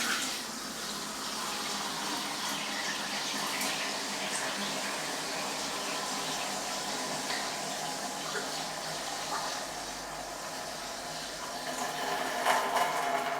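Liquid Star San sanitizer pours steadily into a powered-on BrewZilla Gen 3.1.1 brewing unit, a continuous close splashing wash that runs unbroken for over ten seconds.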